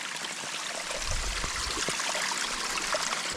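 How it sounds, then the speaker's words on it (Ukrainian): A mountain spring stream flows in a broad, steady rush of water on a mountain pasture, with a few close gurgles and splashes near the middle and no talking. "Дійшли до струмка, зараз наберемо тут води, поп'ємо і далі підемо."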